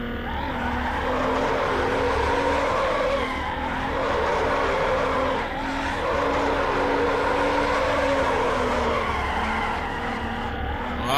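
A Subaru drifts in the racing game NFS Underground Remastered, with a sustained engine drone and long tire squeals that rise and fade in waves, with no talking.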